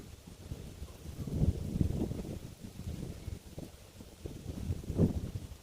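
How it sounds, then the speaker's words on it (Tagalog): Strong wind buffets an outdoor microphone during a DJI Mini 3 drone flight, a continuous low rumble that swells in gusts around the middle and near the end, with no talk. "Lakas ng hangin."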